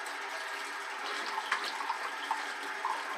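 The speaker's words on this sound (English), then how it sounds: "Just cold water rinsing." Cold tap water running to rinse a Rockwell 6C Gunmetal razor during a shave, a soft steady hiss of flow with a few faint splashes and drips, fairly quiet and alone.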